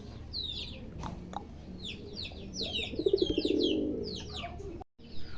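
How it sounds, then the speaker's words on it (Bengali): Dragon homer pigeons at a pigeon farm give soft cooing calls, with a burst of throaty coos midway, over a busy background of chirping birds. "দুই পিস কবুতর দুই পিস ড্রাগন হোমার"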